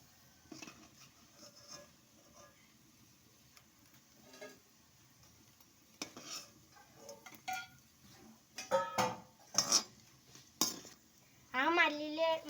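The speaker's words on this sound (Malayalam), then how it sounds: "ഇനി ഈ അരിപ്പ പാത്രത്തിലേക്ക് നമുക്ക് ഇത് കോരിയിടാം." Fried onion vadas scooped out of hot oil into a metal strainer bowl: soft sizzling underneath, then scattered scraping and clinking of a metal ladle against the vessel, with a brief voice near the end.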